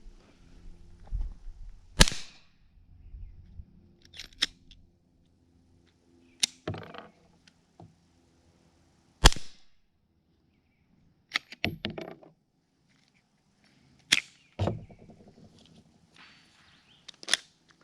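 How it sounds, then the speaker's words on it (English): Subsonic rounds fired through a Silencerco Octane 45 suppressor: about nine sharp, dull cracks spaced irregularly over quiet gaps, some doubled, with faint handling noise between shots. "here is subsonic, so it should be even quieter than what you just heard."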